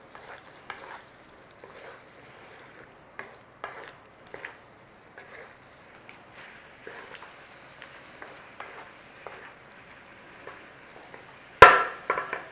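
Sweet-spicy chicken stir fry in a pan, thickened with cornstarch sauce, gives a faint sizzle under repeated soft stirring and scraping strokes, ending in a sharp metallic clatter.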